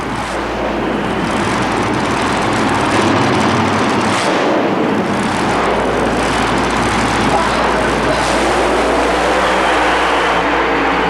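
Addicted to Mud super modified mud racing machine roaring through its run at a 1991 Oklahoma City event, a sustained loud engine drone with broadband mud and crowd noise throughout, a commentator talking over it.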